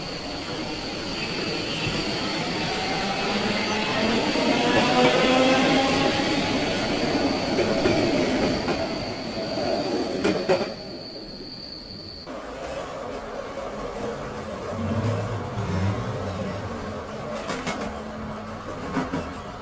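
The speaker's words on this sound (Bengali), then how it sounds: "ট্রেন আসতেই অভয় ট্রেনে উঠে পড়ে।" A local train runs along as an animation sound effect, a continuous rumble of rail wagons and wheels, loudest in the first half, then dropping to a quieter interior drone with occasional knocks.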